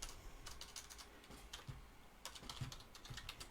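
Quiet, steady typing on a computer keyboard as a description is entered, a continuous patter of soft key clicks with a few slightly louder strikes.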